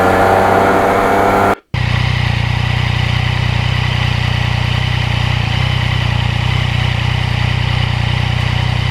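A 2020 Yamaha MT-09 is ridden on back roads near Kinnelon during engine break-in, its engine droning loudly and steadily at a constant pitch. A brief dropout interrupts the sound early on.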